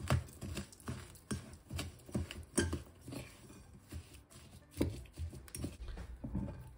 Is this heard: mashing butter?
yes